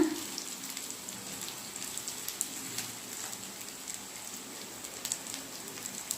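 Raw banana slices frying in oil in a pan, a steady soft sizzle and crackle with scattered pops, continuous throughout at moderate level.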